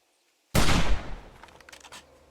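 A gun fires at a bear in 7 Days to Die, one sudden loud blast that cuts through silence and then decays into a rattling tail, with a few faint follow-up knocks. No one speaks.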